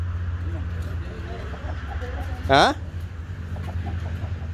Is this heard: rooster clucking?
yes